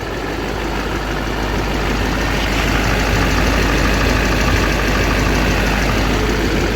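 An LBZ Duramax diesel pickup with 4x4 idling while warming up, a steady loud rough clatter with low rumble holding constant throughout, no voices.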